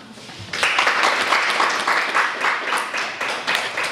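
A crowd breaks into warm, sustained applause as a guest is welcomed at a school alumni ceremony, the clapping rising suddenly from a quiet hall and continuing in dense, rippling waves.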